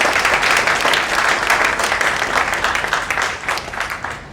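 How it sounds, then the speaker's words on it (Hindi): An audience applauds Bharat Bhai Solanki, a retiree who set up a unit, with a loud, dense wash of clapping throughout that tapers slightly near the end. "इनके लिए भी तालियां होनी चाहिए"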